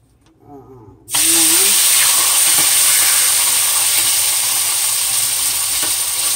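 Red potato slices hit a hot pan and burst into a loud, steady sizzle after a brief quiet moment, the hissing fry continuing close and strong to the end.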